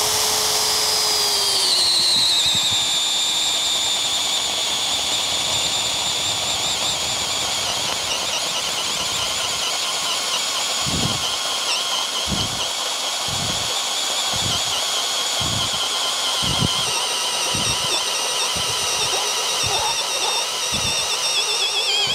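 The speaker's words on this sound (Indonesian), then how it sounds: "kita pakai speed bit 38 mili di kayu rambutan ini" A Bosch GSB 18V cordless brushless drill boring a 38 mm speed bit into rambutan wood: a loud sustained motor whine that dips in pitch under load, followed by a regular series of sharp knocks as the bit bites.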